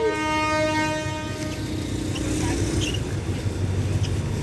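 Passenger train 351 pulls away from Ban Pong station, its horn sounding in a strong sustained blast at the start before fading under the heavy rumble and clatter of rolling cars, with a voice speaking over it.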